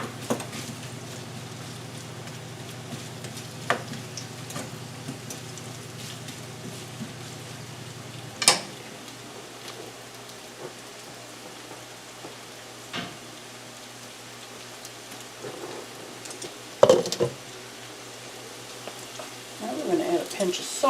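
Garlic sizzling in a pan for baked noodles and cabbage: a soft, low crackle runs steadily under a faint hum, with a few louder pops as someone talks.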